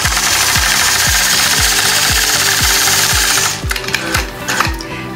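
A sewing machine stitches a curved quilting line guided by a mini 4-in-1 machine quilting ruler, giving a loud, steady rhythmic stitching pulse at close range that shifts in texture toward the end, with no talk.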